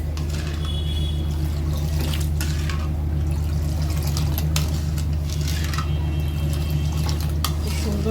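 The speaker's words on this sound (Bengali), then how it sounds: "সুন্দর করে নাড়তে হবে যেন দুধটা কেটে না যায়।" Coconut milk with sugar is stirred in a pot on the stove, giving a steady, close liquid swirl and faint bubbling over a low hum, with a few soft clinks from the utensil.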